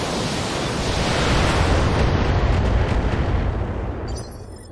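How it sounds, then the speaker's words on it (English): A BattleTech mech unloading all its weapons at once, a dense roaring wall of explosions and blasts that swells, holds loud and then tapers off, with no talk over it. "Firing everything I've got."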